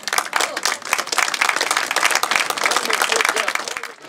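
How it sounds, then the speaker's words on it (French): Crowd applause at a local gathering in Le Cateau, steady dense clapping for about four seconds with voices mixed in underneath. "Ben voilà, on peut applaudir."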